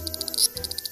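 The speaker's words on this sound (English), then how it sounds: "Cicadas are known to produce sound up to 120 decibels." Loud cicadas in Japan, a rapid pulsing high-pitched buzz repeating in steady bursts with one louder swell in the middle, heard alone.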